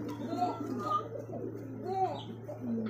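Desi Golla pigeons coo softly, the low calls faint against a steady background hum and murmuring voices nearby.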